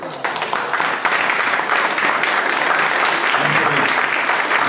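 An audience applauds at an academic symposium, a full, steady wave of clapping that holds loud from start to finish.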